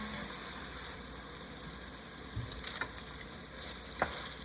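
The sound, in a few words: stirring braised pork belly in sauce in a pan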